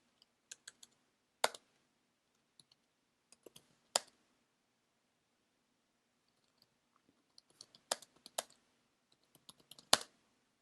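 Sparse, quiet computer keyboard typing while a blog post is written, with short bursts of clicks separated by long pauses.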